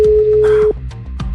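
A telephone busy signal sounds as a single loud, steady tone on a redialed call, then cuts off abruptly, leaving faint background noise.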